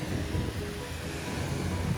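Waves washing onto Levante Beach in Benidorm, a faint, continuous wash of surf with a touch of wind.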